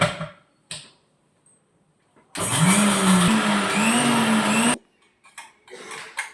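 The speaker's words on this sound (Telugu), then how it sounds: "మిక్సీ పెట్టుకొని పేస్ట్ చేసుకోవాలి" A kitchen mixer grinder blends cumin, green chilli, ginger and curry leaves into a paste. It gives a single loud, rising whirr lasting about two seconds, with quiet handling sounds before and after.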